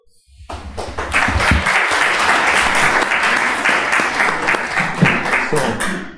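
Sustained audience applause welcoming a speaker at a philosophy lecture, a dense wash of many hands clapping that swells quickly after a brief pause and holds steady for several seconds before tapering at the end.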